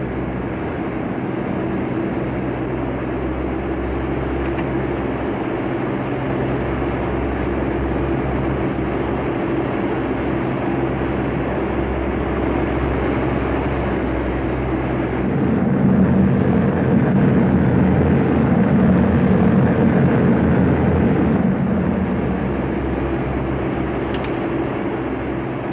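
A squadron of bomber aircraft drones in flight in a 1941 war film, its engines making a heavy, continuous low roar that swells slightly partway through, with no voices heard.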